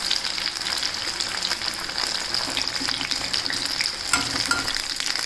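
Battered jackfruit manchurian pieces crackle in hot oil with a dense, steady sizzle, close up and constant, plus occasional soft stirring, with no voices.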